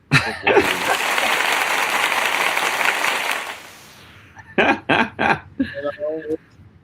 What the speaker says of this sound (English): Round of applause for my man.